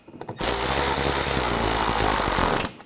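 Power tool snugging screws on the underside of the front grille area of a 2007-2013 BMW X5, one loud, close burst of about two seconds after faint handling noises.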